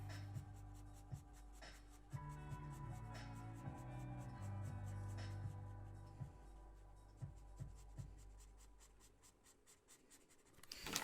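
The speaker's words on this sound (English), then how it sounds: "We're here just kind of going real fast, parallel lines next to each other to create value and shade in your drawing" Pencil scratching out a rapid run of fast parallel shading strokes on a sketch of a book, a dense steady scratching with short accented flicks, close and clear, with no talking.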